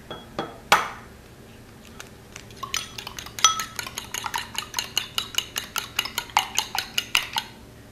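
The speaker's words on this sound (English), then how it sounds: "I'm going to take my 2 eggs and I'm going to slightly beat them in this bowl" Two eggs beaten lightly with a utensil in a bowl, a loud knock early, then a steady run of quick, sharp clinking strokes against the bowl that speed up toward the end, close and clear with no talking.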